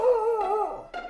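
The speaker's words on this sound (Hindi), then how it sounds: "कुत्ते लगातार भौंक रहे थे और सियार का पीछा कर रहे थे।" A dog gives a short whining yelp, a single brief tonal cry heard close and alone.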